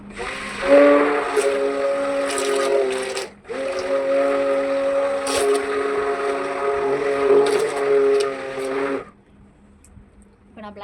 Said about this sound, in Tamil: இப்போ மிக்ஸ் பண்ணிவிட்டு ஜஸ்ட் ஒரு மிக்ஸ் பண்ணிக்கிட்டு பிளெண்ட் பண்ணிக்கிறேன்